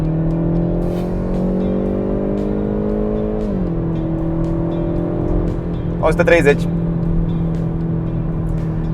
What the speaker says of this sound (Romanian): Bun, avem 80, accelerez acum.